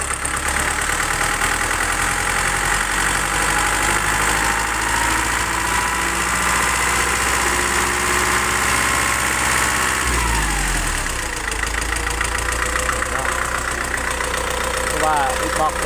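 An engine fitted with an aftermarket ECU runs loudly and steadily up close. Its drone shifts partway through as the revs change, then holds again.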